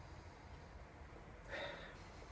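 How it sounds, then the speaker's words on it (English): A single short sniff of a Tucher Bajuvator Doppelbock beer, a quiet close breath in through the nose after a faint background hiss, with no talk. "let's give it a sniff"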